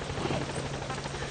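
A support helicopter arrives in Metal Gear Solid V: The Phantom Pain, a steady whirring rotor drone holding at even loudness throughout with no talk over it.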